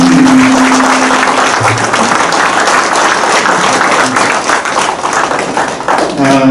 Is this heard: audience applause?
yes